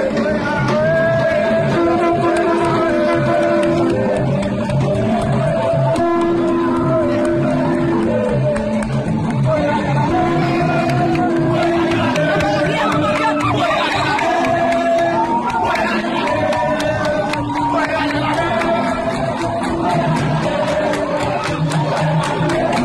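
A large crowd of protesters demonstrating in Miragoâne, Haiti, demanding the departure of Prime Minister Ariel Henry, roars continuously, with dense shouting and chanting voices filling the scene at a loud, steady level throughout.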